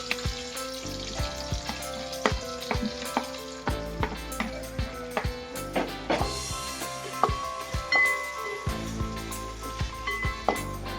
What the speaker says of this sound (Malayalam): നമുക്ക് സവോള ഇട്ട് കൊടുക്കാം. സവോളയും പച്ചമുളകും.